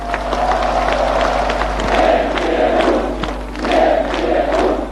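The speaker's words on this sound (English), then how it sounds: "Long live Bush, they chant." A large crowd in Gdansk chanting for President Bush, rhythmic swelling shouts repeating over a rumbling background, with pulses of cheering and applause, heard at a distance.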